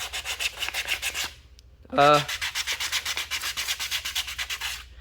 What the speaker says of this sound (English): we finished all the sanding and everything